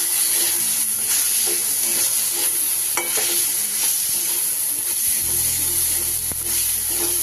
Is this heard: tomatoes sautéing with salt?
yes